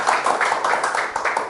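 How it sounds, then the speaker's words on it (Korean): A short burst of audience clapping in a lecture room, a brief moderate round of applause from a small group, close and even without a clear break. "박수."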